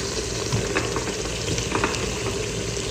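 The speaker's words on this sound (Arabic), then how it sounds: "الحين طبعا انا بحط البطاط وبحط الجزر مالي كله على بعضه" Potatoes and carrots going into a hot pot of frying chicken for red chicken machboos, giving a loud, dense, continuous sizzle with crackling and stirring throughout, close and without speech.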